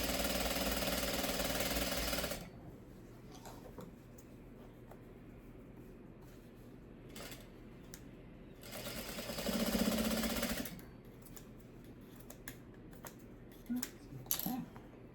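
Sewing machine stitching scrappy pre-cut quilt fabric pieces for a crazy quilt, a steady buzzing run at the start and another burst midway, with quieter handling noises between.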